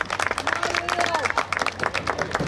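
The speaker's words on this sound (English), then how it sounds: "Let's everybody give Will a round of applause as he attempts to win tonight." A rodeo crowd applauds a young mutton-busting rider, with steady scattered clapping and cheering from many people, a voice talking over it and a whistle-like tone sliding partway through.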